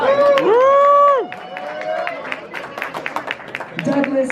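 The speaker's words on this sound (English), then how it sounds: "please give a round of applause and welcome Mr. Brad Laurie" A convention audience at Cult Classic Convention 2023 claps and cheers to welcome guest Brad Laurie, a dense patter of hands mixed with loud whoops and sung-out voices, fading to scattered clapping before rising again at the end.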